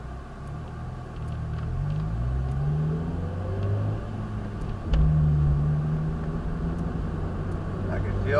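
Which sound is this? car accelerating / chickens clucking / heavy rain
car accelerating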